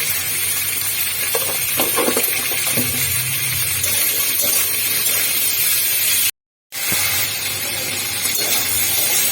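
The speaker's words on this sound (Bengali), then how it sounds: "এইভাবে নাড়িয়ে চাড়িয়ে একটু ভালো করে ভাজতে হবে" Steady broadband sizzling of chilli chicken frying in a pan, continuous throughout with a brief dropout near the end, no voices.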